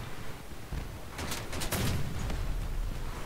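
Weapon firing in the vehicle combat video game Crossout, a burst of loud rapid shots and booms over constant engine and battle noise, with no talk.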